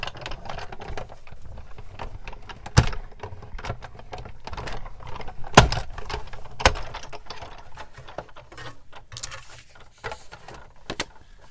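Paper being cut for a vintage junk journal craft makes a run of close, crisp snips and rustles, with a few sharper clicks and clacks standing out from the handling noise and no talking.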